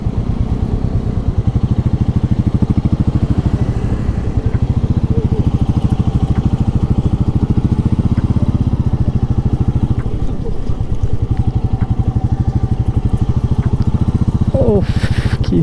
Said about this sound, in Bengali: এখানে বাইক রেখে নিচে যাবো আমরা